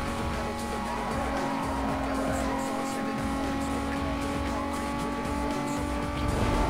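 Race car engine droning steadily in Need for Speed Most Wanted (2005), a sustained whine with tire noise and skids, fairly quiet and continuous while someone talks over it.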